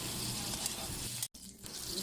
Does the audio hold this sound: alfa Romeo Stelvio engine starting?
no